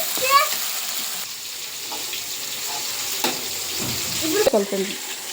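Chopped tomatoes for upma crackle and sizzle in a pan while being stirred, with scraping spoon strokes and occasional clatters over a soft, steady frying hiss.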